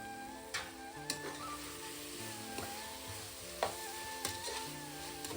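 Green chillies, mint and coriander sautéing in a pan for a home-style prawn biryani, a steady soft sizzle with a few faint clicks of a spoon against the pan, no voices.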